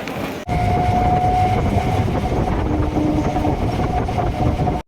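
Aboard a train bound for Namkhana, a loud continuous rumble with rattling carriages and a thin metallic whine running through it.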